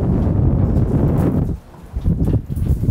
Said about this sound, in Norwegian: Oi, så det blåser her.